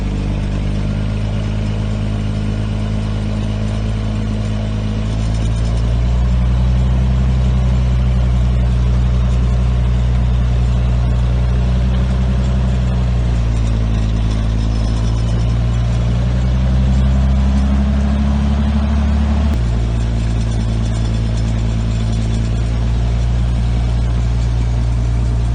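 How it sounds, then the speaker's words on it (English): A Toyota FJ55 Land Cruiser's 2F six-cylinder gas engine runs loudly and close for the whole stretch, a deep rumbling idle that rises and falls with light revs, in a truck crashed and parked for decades. "It's got the 2F 6-cylinder gas engine, the 4-speed manual"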